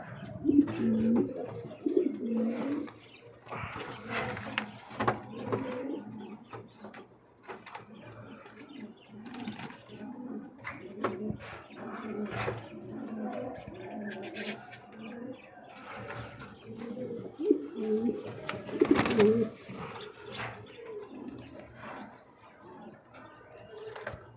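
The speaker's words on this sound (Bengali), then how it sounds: "লক্কার তিন জোড়া কবুতর আছে" Several Lakka pigeons coo softly and repeatedly at close range, overlapping low burbling calls that rise and fall over a quiet background.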